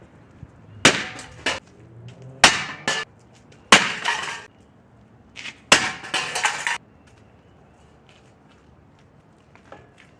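A two-handed medieval war mace strikes a metal helmet several times, caving it in and bursting the rivets. Four or five sharp metallic crashes with rattling, spaced a second or more apart, are followed by quiet.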